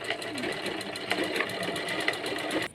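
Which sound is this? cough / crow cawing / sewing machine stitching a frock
sewing machine stitching a frock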